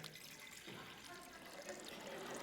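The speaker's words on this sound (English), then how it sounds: "let me do that by pouring this blue liquid into this beaker here" Blue liquid being poured into a beaker makes a soft, continuous splashing trickle, faint and steady across the whole moment.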